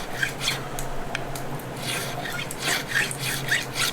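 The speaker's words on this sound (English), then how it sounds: "Getting out the scratches off these frets." A file rasps back and forth over the frets of a Rickenbacker 12-string guitar, taking scratches off them in a steady series of close, scraping strokes with no voices.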